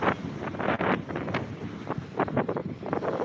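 Wind gusts and sea waves on Digha beach at night during high tide, heard as a rough continuous roar of wind buffeting the microphone over surging surf, fairly loud and close.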